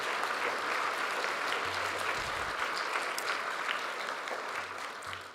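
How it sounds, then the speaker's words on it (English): Audience applause at a Craft Academy graduation ceremony, a steady patter of clapping from a seated crowd, moderately distant and gradually fading toward the end. "Would you give them a round of applause as well?"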